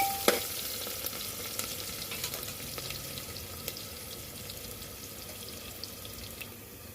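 Onions and green chillies sautéing in oil in a pan for spicy Gujarati rice, a steady soft sizzle and frying hiss throughout with occasional stirring clicks, close and alone without talk.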